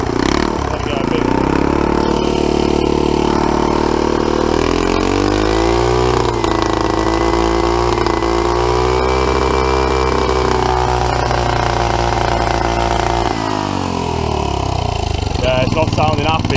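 A turbocharged scooter engine runs without its air filter, revving up to a sustained, uneven high drone and then dropping back, loud and close throughout.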